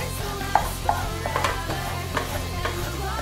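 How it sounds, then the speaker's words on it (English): Flour roux sauce stirred in a crockpot, a soft steady simmer with a few spoon scrapes and clicks against the pot, close and fairly quiet. "see how I'm stirring it up and I'm breaking up those clumps of flour that are in there?"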